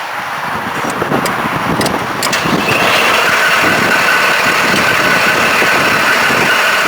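A New Holland tractor with toroidal transmission runs steadily in transport mode, its engine rumble building slightly in the first seconds and then holding an even, loud drone with a faint whine.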